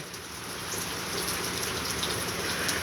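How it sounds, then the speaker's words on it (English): Steady heavy rain pouring down, a dense continuous hiss with pattering drops throughout, no voices. "It's raining pretty good."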